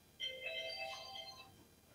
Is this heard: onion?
no